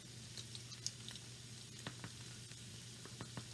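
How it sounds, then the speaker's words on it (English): Onions sizzle and fry in a hot pan with butter and bacon fat, a steady close crackle with scattered sharper pops throughout, no talking. "let's get that hot with those onions"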